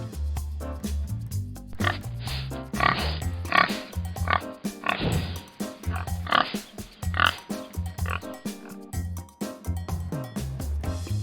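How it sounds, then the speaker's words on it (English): Pigs grunt and snort continuously, a dense, loud overlapping chorus of low rumbling oinks and sharp nasal snorts, close up. "Pigs grunt and snort to express themselves and communicate with other pigs."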